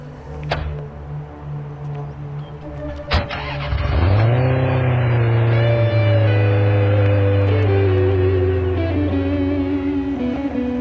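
An engine starts with a sharp crank, then revs up loudly and holds a steady, close drone as the car pulls away.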